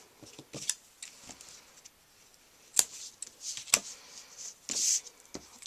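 Scissors cut a paper card in short sharp snips at an uneven pace, with a couple of louder close cuts and quieter pauses between them, and no one talking.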